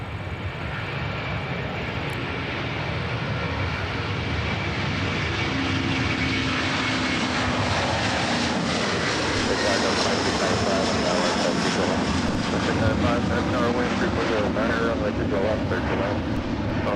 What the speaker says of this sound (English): Delta 215 Heavy now departing to Dublin with A330-200